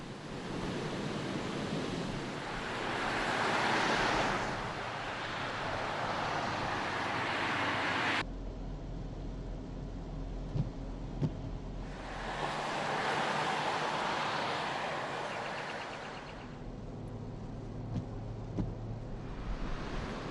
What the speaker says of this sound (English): a number of wilayas of the governorate of Dhafar witnessed various intensity rains beside high sea waves